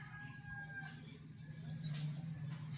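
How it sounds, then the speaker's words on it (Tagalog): Farm chickens cluck and a rooster calls in short bursts over a steady outdoor hum, the birds fairly faint and some distance away. "May manok dito sa unahan, oh."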